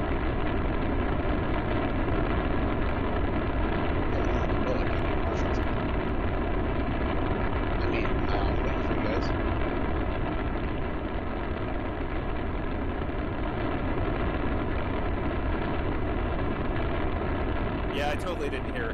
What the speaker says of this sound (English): we're hearing rocket sounds right now